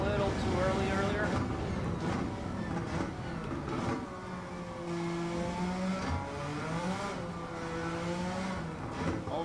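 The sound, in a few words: Suzuki Escudo car engine revving in Gran Turismo 7 video game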